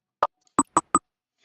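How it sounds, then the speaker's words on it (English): Four sharp, isolated clicks sound close by, one alone and then three in quick succession, against near silence. "What is that clicking sound?"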